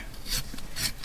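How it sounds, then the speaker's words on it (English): Notebook pages are torn along their edges in two short raspy rips, close and dry-sounding, with no voice. "I'd like to tear the edge of these, all of the pages a little bit"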